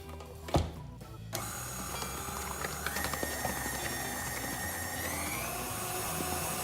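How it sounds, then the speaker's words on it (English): Buttercream icing is whisked again after more milk is added, the whisk's motor whirring steadily and loudly after a brief knock at the start, with no voice over it. "So I'm going to add a bit more milk. And we'll give it another whisk."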